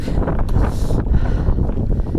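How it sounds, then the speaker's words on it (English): Wind buffets the microphone in a rough, continuous rumble with gusty rustling, loud and close throughout, on the Pacific Crest Trail in California. "Hopefully the wind will let up a little bit"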